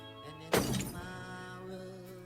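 Glass shatters once in a sudden sharp crash with a bright ringing tail of tinkling shards, heard in a scene from Moon Knight over a low background.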